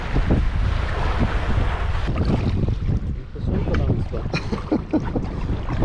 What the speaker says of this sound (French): Mais il y a vraiment du vent, il y a pas mal de vent